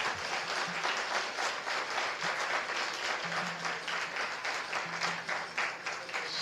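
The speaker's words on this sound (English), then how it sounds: "A round of applause for them." An audience claps for winners at a book distribution prize ceremony. The applause is continuous and moderately distant, a steady crowd patter with faint low hum and tones underneath, and no speech.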